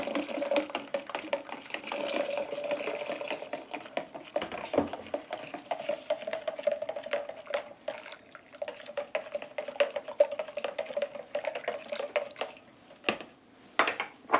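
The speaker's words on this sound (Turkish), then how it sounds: "Evet şimdi koyuyorum suyunu." Water is poured into a pot of cabbage sarma, making a steady close splashing and trickling stream with occasional clinks of the pot, running for several seconds without speech.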